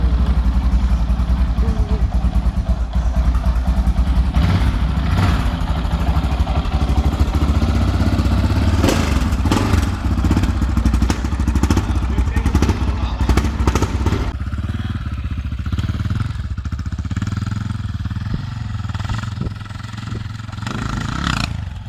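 A 2000 Honda XR650R dirt bike is ridden with a loud, close, thumping engine that holds steady and revs, then eases toward the end.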